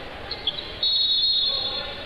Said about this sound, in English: Inadvertent buzzer.